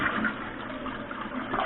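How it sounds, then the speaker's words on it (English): A household toilet with a running-toilet fault being flushed during a repair, giving a steady, fairly close rush of swirling water with no voices over it. "So we're going to flush the toilet."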